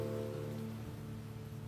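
Rain falls in a soft, continuous hiss and patter, faint and even over a low steady hum, with no voices.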